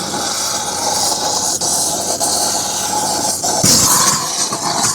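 A thermal lance burns through a stainless steel pin on a submarine decompression rig, producing a loud, continuous roaring hiss close by, with faint knocks partway through.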